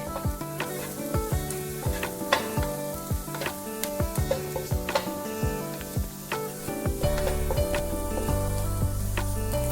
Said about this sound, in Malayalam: ഇതൊന്ന് ഫ്രൈ ആയി വരാൻ വേണ്ടി കുറച്ച് സമയം എടുക്കും.